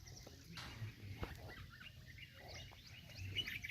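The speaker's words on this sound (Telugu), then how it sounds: "అనేకమైన పక్షులు వచ్చి" Many birds chirp and call at a feeding spot where rice is set out on a stone atop poles each morning; faint, scattered tweets over a soft outdoor hiss.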